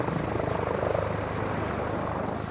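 Military helicopters thread up a valley, their rotors a steady, dense throbbing chop that fills the air continuously at moderate distance with no voices.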